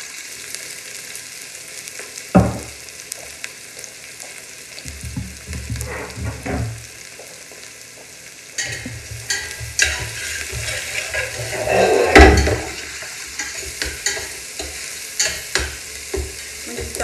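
Garlic and onions fry in olive oil in a pan, with soft sizzling throughout and bursts of stirring and scraping around the middle and again near the end, close and moderately loud.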